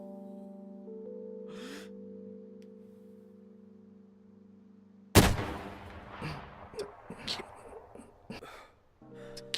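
A single sudden, loud cannon blast goes off in the video game DayZ, cutting through a steady low musical hum and followed by scattered crackling and rumbling aftersounds.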